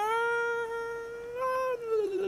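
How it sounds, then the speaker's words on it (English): A cat meows in the Total War: Attila video game, one long drawn-out tonal cry that bends at the end, clear and fairly close over a quiet background. "It's a cat."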